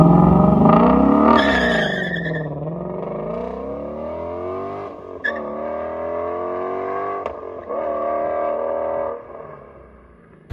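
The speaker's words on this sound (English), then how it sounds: "this is gonna be her reaction feeling what the GT350's acceleration feels like" A 2016 Ford Shelby GT350 accelerates hard from inside the car, its engine note climbing through the revs, dropping at a gear change, then rising again in a loud sustained roar before easing off.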